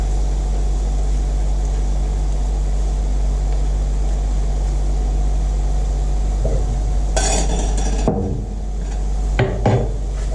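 Onions fry in a pan for Indian chicken shahi kofta under a steady, loud hiss and hum. Late on, a few sharp utensil clatters and scrapes against the pan break through.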